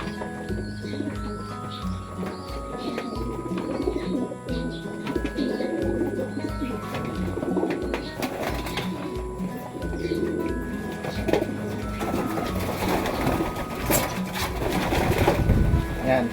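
Racing pigeons coo continuously in a loft, low throaty burbling from several birds close by, mixed with rustling, shuffling and occasional clatter, with someone talking intermittently over them.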